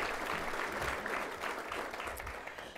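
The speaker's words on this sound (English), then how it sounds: "Please give them a round of applause as well." An awards ceremony crowd applauds Kern Government Television employees with continuous, fairly soft clapping that holds steady throughout.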